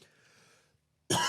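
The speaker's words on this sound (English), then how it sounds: "I just need a cough." A single sharp, loud cough bursts out close to the microphone during a podcast, set off by coffee irritating the throat. It follows a faint low murmur and a short stretch of near silence.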